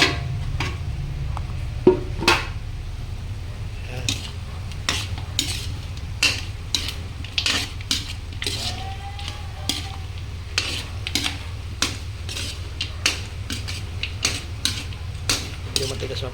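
A spoon scrapes and clinks steadily inside a cooking pot as pork biryani is stirred, with a low simmering hum beneath, intermittent sharp metallic knocks, and a voice talking at times.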